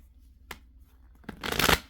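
Tarot cards are shuffled close up: a brief riffle, then a louder rapid fluttering burst of flicking cards.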